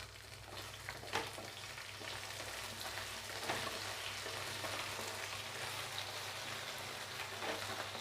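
Okra sautéing in a covered pan for vendakkai kara kuzhambu, giving a soft, steady, rain-like sizzle with small crackling pops throughout, faint and alone.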